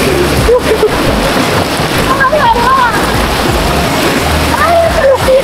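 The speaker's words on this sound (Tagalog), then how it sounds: "Ang lakas sa agos dito," Strong river current rushes at Wawa Dam in Rodriguez, Rizal, a loud steady wash of water with heavy wind buffeting the microphone and voices faintly under it.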